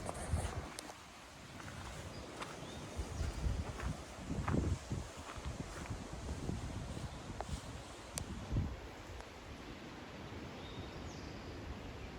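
Wind rushes through treetops in rainy woodland near a creek, a faint, steady broadband roar with gusts swelling and easing, occasional small rustles and ticks, no voices.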